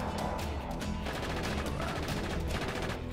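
Rapid gunfire in the video game Just Cause 3, dense overlapping bursts of automatic shots rattling continuously at high volume with no pause.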